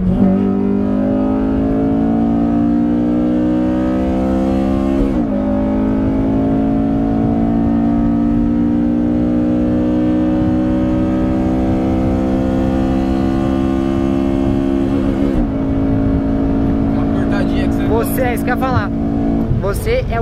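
A Honda Civic Si engine revs and drones steadily while driving, VTEC engaging, the pitch climbing then dropping at gear shifts, loud and close with occasional voices underneath.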